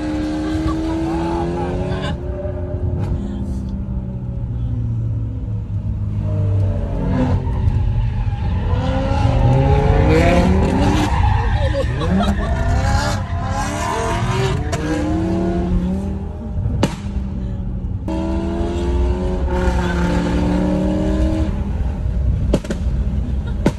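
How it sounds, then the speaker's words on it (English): Straight-piped 700HP BMW M3 E90 drifting on mountain roads on completely bald tires, engine roaring and revving loudly and continuously with tire slides through corners, close and steady throughout. "The tires are completely bald, which means I'm sliding through every corner."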